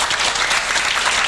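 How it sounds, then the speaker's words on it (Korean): Loud, sustained applause from a concert audience honouring the sound director, a dense unbroken wash of clapping close and full throughout. "여러분 뜨거운 박수 한번 부탁드립니다."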